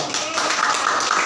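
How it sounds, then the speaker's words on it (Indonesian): Applause from a classroom audience at a micro-teaching session, a steady dense patter of many hands clapping together, moderately loud and continuous. "Jadi tepuk tangan dulu buat kita semua."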